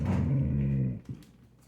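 A female dog growls low and steadily while guarding her food, close by, the rumble easing off after about a second into quieter breathing.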